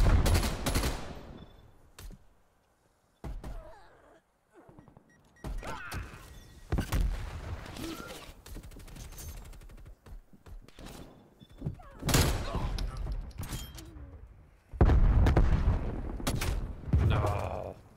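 Bursts of automatic gunfire in Call of Duty Black Ops Cold War, loud sharp volleys separated by quiet gaps, with some thuds and footsteps between the shots.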